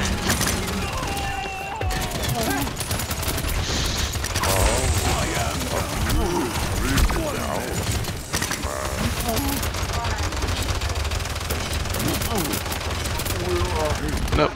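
Rapid bursts of heavy gunfire from a big gun in the video game Paladins rattle on continuously alongside mechanical clanks, with voices talking over the action.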